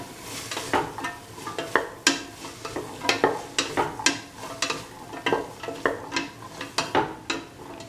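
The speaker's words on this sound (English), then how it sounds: "Mix the cauliflower pieces with the rest of the mixture." Cauliflower pieces are stirred into an egg mixture in a frying pan for a scrambled egg stir fry, with repeated scraping strokes over a soft sizzle, close and fairly loud and with no talking.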